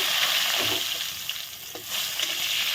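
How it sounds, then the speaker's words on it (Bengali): Whole cumin seeds and a few bay leaves crackle and sizzle in hot oil, a steady dense frying hiss running throughout at close range with no voices. "এখন আমি ওই একই তেলে গোটা জিরে ফোড়ন দিয়ে দিলাম"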